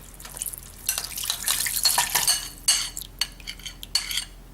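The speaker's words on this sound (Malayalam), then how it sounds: "അതിലേക്ക് ഈ പുളിവെള്ളം ആഡ് ചെയ്യണം" Tamarind water splashes into a simmering masala paste for Kerala fish curry, with metal utensils clinking and scraping against the pot in quick, uneven bursts.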